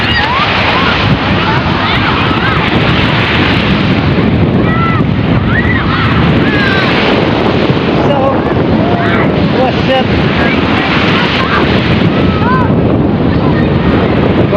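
Strong wind buffets the microphone on a crowded beach on Black Saturday. It roars in a constant, loud rush over breaking surf, and faint voices blend into the noise.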